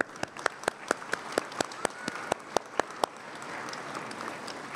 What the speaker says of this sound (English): So I applaud you too.